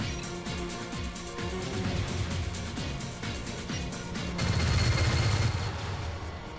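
Spaceship guns fire in the space combat game Starlancer, rapid repeated pulsing shots in paired bursts over engine hum, with a louder sustained blast of fire toward the end.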